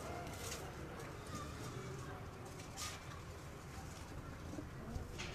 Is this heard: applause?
no